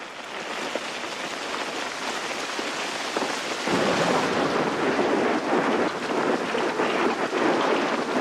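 Heavy rain hisses steadily on surfaces during a thunderstorm, growing louder and denser partway through, with faint low rumbles and no voices.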